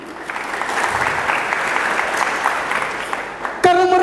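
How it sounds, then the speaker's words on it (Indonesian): A church congregation clapping together, with dense, steady applause that fills the room at close range for several seconds, then cuts off into a sustained musical tone. "Itu tepuk tangan untuk Tuhan."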